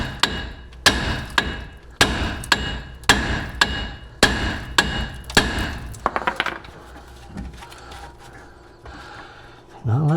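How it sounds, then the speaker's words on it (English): A series of sharp metallic hammer strikes on a lower ball joint of a 2007-2013 GMC Sierra or Chevrolet Silverado, about eight heavy blows at a steady pace, then quieter clanks and workshop rustling. "And we'll just hammer it here."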